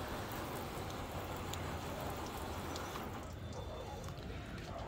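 A garden hose with an adjusted spray pattern sprays water onto a car's coated paint to mimic heavy rain, a steady dense hiss of spray throughout with no talk.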